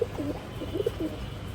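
Afsan Makhra Bagha Khaki pigeons cooing, several soft, throaty coos in a short burst, close by over a low background hum, with no talk.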